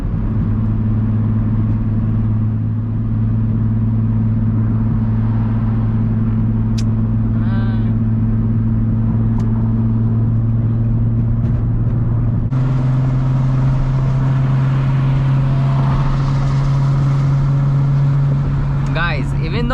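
Exhaust of an Infiniti G35 six-speed with the muffler and resonator deleted: a loud, steady low droning rumble heard from inside, shifting to a slightly different pitch partway through.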